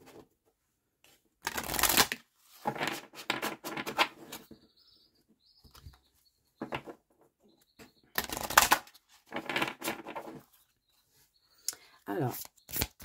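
Tarot cards shuffled in several bursts of riffling and flicking, close and clear, with pauses between and a soft chime-like tone in one gap; no one talks over it.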